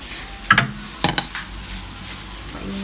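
A few sharp scrapes and taps of a utensil against a pan ring out over a soft ongoing sizzle as rice is stir-fried for sinangag, Filipino garlic fried rice, heard up close without voices.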